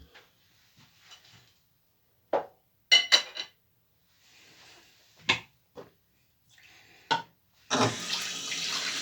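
Tap water running in bursts while shaving soap is worked into a lather with a synthetic brush, short splashes and trickles, ending in a steady louder stream.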